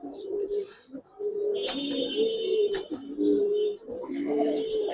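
Silver giribaz pigeons coo in a nearby loft, repeated throaty rolling calls in steady bursts with short pauses, plus a few higher chirps and some background shuffling.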